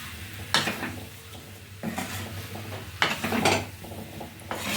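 Potatoes are mixed for a samosa filling. A spoon clatters and scrapes against a metal pot in a few separate bursts, with a low kitchen hum between them.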